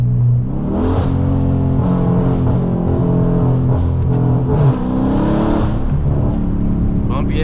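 Car fitted with JBA catless midpipes and an MBRP race exhaust, its engine droning and swelling in loud, steady revs from up close, with a voice talking faintly over the exhaust note.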